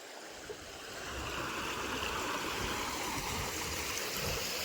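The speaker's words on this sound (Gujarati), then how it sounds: "જો પાણીનો અવાજ કેવો મસ્ત છે." Fast-flowing water rushes steadily past after two days of good rain near farm fields, a loud, continuous broadband roar of a stream close by with no talk over it.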